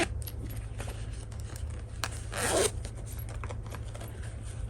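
Zipper pulled along a fabric bag during sewing, with small metallic clicks and handling noises followed by one clear rasping zip run, close up over a low steady machine hum.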